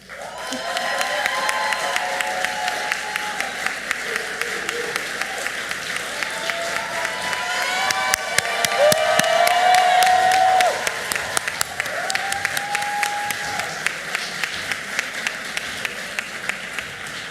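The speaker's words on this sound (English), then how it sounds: "that was a rousing round of applause" A crowd at the Morehouse School of Medicine Class Day gives sustained, dense applause with scattered cheers and whoops rising midway, crisp individual claps audible near the end.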